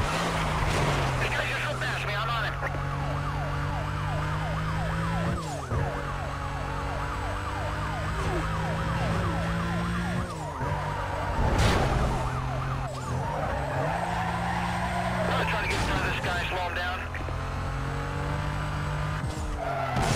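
Police car sirens wail in Need For Speed Most Wanted (2005), rising and falling over a steady roar of racing car engines and repeated tire skids that stay loud throughout the chase.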